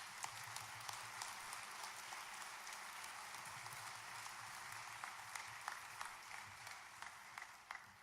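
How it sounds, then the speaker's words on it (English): A crowd at a Salute to Heroes event applauds state troopers, with a steady wash of clapping at a distance, soft and even in level, running throughout with occasional sharper individual claps. "How about one more round of applause for our state troopers?"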